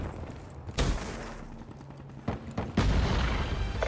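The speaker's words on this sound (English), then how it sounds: "Grenade!" A grenade blast booms in a Call of Duty Black Ops Team Deathmatch match amid sharp bursts of gunfire, with several loud, abrupt cracks separated by short gaps.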